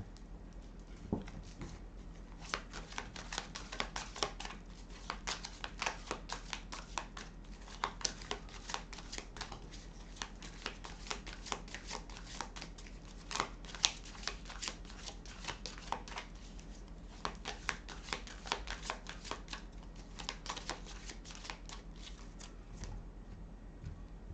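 Tarot cards are shuffled by hand for a reading, making a soft, continuous riffle of small papery flicks and taps that stays quiet and steady for over twenty seconds, with no talk.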